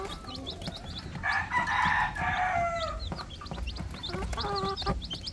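A brood of young Rhode Island Red chicks keeps up a busy stream of shrill peeps, joined by a louder, longer fowl call that briefly dominates before the chirping continues.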